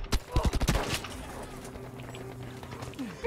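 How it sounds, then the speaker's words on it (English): Rapid volley of gunshots in Battlefield V, around half a dozen sharp cracks in the first second, then a low rumble and faint background noise. "So many shots just killed one guy."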